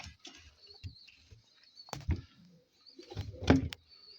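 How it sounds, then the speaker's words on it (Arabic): Pigeons coo softly in a coop where two squabs and eggs sit under the birds, low murmuring coos and brief shuffling bumps coming in short bursts amid quiet pauses. "طبعا يا اخوان هاي الحمام."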